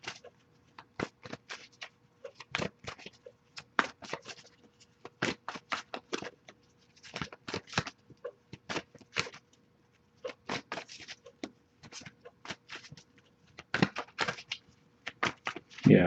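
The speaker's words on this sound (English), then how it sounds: "Yeah, I'll give it a couple more shuffles" Tarot cards being shuffled by hand, crisp riffling bursts and soft taps in an irregular rhythm, close and fairly loud with brief pauses between clusters.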